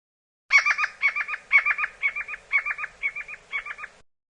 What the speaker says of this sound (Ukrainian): Так співає соловей.